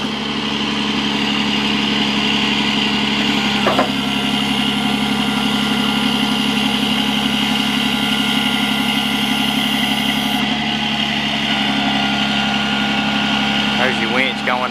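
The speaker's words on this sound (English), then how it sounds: "There's your winch going down." Diesel engine of a 2008 Freightliner Business Class M2 106 service truck idling steadily and close, with the winch running as it lowers and someone speaking briefly over the drone.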